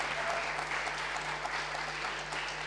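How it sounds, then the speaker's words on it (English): An audience claps steadily for the speakers and organisers at a Social Media Day event on the Gold Coast, a dense, sustained round of applause throughout with a low steady hum underneath and no voices. "can we just have a big round of applause for all the speakers, Media Junkies, for organising all of this."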